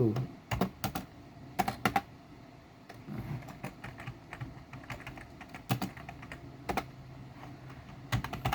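Code being typed on a computer keyboard, quick clusters of close key clicks in irregular bursts with short pauses between, fairly quiet.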